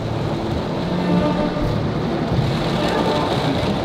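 Heavy rain pours down steadily during a typhoon in Japan, a dense continuous wash of noise with a low rumble underneath, constant and close with no letup.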